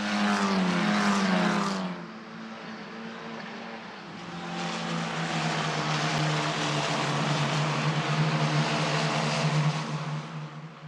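Italian F4 single-seater race cars running side by side down the straight at Imola, a loud buzzing engine note that fades after a pass, then a second car's rising, sustained whine as it approaches and roars by.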